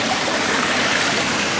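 Water from a fish tank filter pours steadily into a filtering compartment, a constant close trickling rush with no other sounds.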